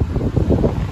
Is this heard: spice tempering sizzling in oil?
no